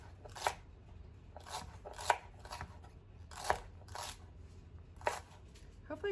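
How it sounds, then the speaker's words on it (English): A knife chops ingredients for a smoked chicken salad in a series of crisp, evenly spaced cuts, about seven close-up strokes, over a faint low background hum. "now I'll give these a chop"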